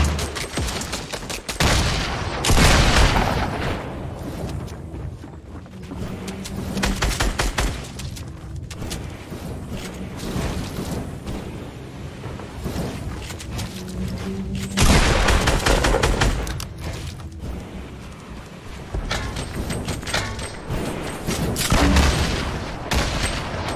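Repeated gunfire from a weapon in Fortnite, bursts of rapid shots and booms recurring loudly across the whole stretch with brief pauses between volleys.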